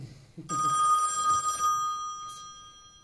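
A telephone rings loudly for about a second with a bright electronic bell tone during a family Christmas meal, then cuts off, with a faint murmur of voices before and after.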